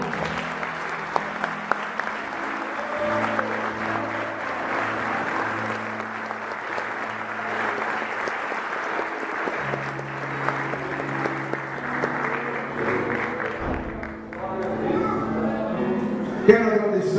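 A church congregation at a missions worship service applauds, a long, moderate wash of clapping that carries on under sustained organ or keyboard chords, with the texture changing toward the end as the music shifts.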